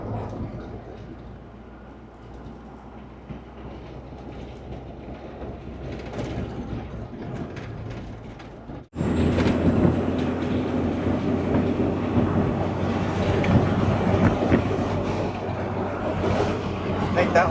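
A 1981 Ford truck that had an engine fire runs on the road, a steady engine drone that jumps louder and fuller about halfway through as it shifts into overdrive and bogs down, with people talking over it.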